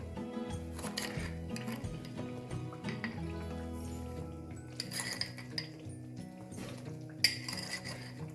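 Sugar is tipped into roasted semolina in a pan for halwa, with close clinks of a metal spoon against the pan and scattered scraping and rattling, no talking.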